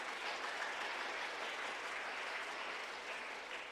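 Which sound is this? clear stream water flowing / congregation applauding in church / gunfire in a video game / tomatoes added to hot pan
congregation applauding in church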